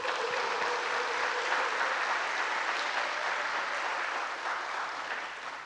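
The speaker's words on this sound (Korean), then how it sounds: "여러분 박수 한번 보내주십시오" Applause from a church congregation at a Sunday gathering, a broad sustained rush of many hands clapping that fades slightly toward the end, with a brief voice early on underneath.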